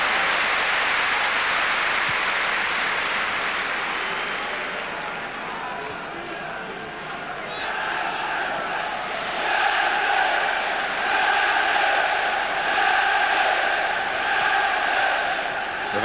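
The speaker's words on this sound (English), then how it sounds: "Crowd are giving Newcastle fantastic support." A football stadium crowd at a 1997 Champions League match between Newcastle and Barcelona keeps up a distant, sustained roar, swelling into rhythmic chanting in the second half beneath a commentator's voice.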